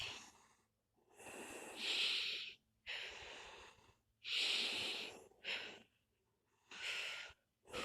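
A video game character from The Walking Dead: The Final Season takes slow, deep breaths, about five long audible inhales and exhales separated by short silences, close and clear with no talking.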